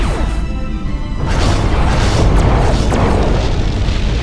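Torpedoes launched from the rear launcher of a ship in Star Trek Klingon Academy, a loud booming blast followed by a sustained rumbling roar, with no talking.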